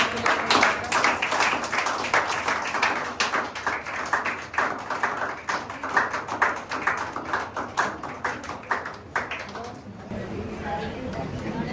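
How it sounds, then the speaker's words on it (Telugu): A church congregation claps together in praise at the close of a fasting prayer gathering, a dense run of rapid, overlapping handclaps that swells and fades over several seconds, close and loud, ending with a brief lull. "చప్పట్లు కొడదాం దేవుడికి"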